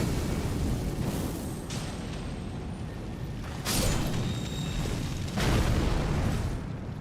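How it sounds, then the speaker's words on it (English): Explosions in the fantasy action game Elden Ring: a steady rumbling roar with two loud booming bursts partway through and near the end, with no talk over them. "I rolled through an explosion?"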